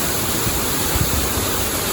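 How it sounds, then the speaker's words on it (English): Water rushing as the top lock of a canal lock flight empties into the bottom lock for a narrowboat, a steady loud roar of flowing water that holds at an even level throughout with no voices. "then we empty the top lock into the bottom lock"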